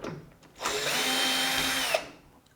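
A power drill whirs steadily for about a second and a half while backing screws out of a Samsung washer dryer, rising sharply and cutting off with a small click, close by and without talk.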